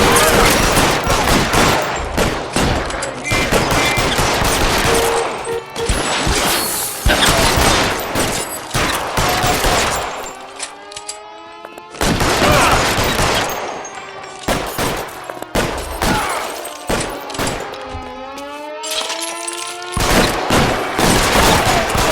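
Sustained bursts of gunfire in a shootout in L.A. Noire, loud, dense volleys of rapid shots with brief lulls and a whining tonal effect mid-way.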